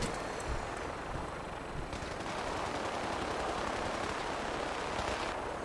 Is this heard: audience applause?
no